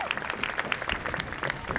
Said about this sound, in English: Let's give a round of applause to our arch-bearers.